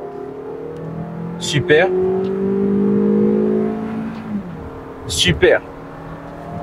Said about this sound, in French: On a un mode sport aussi intéressant avec lequel on peut passer les différents rapports. Je rétrograde.